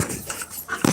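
A pet dog indoors pants and whimpers close by, soft breathy panting running through the moment before a brief higher whine at the end, with no talking.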